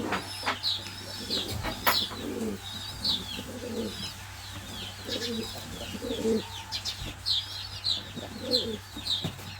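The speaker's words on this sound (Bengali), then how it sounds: "এ হচ্ছে কবুতরের ডাক" Orange Sirazi pigeon cooing nearby: repeated low, throaty coos in short bursts roughly every second or two, with faint chirping of other birds and steady background hum.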